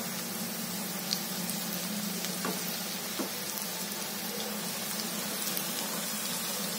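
Bhaji pakoras frying in hot oil until crispy, giving a steady, close sizzle with soft bubbling crackle and a few brief clicks from stirring, no voices over it.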